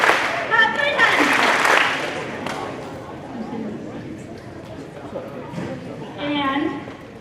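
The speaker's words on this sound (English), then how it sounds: "Clap once, clap twice, clap 3 times." Students clap together at a high school assembly, a loud burst of clapping mixed with crowd chatter, followed by quieter murmuring and a voice speaking near the end.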